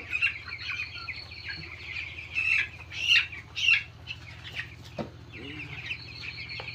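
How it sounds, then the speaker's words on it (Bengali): A 15-day-old broiler chicken on a poultry farm clucks and squawks in several loud, close bursts as it is picked up by hand, over a steady low hum. "আসুন, এই মুরগিটি নিলাম।"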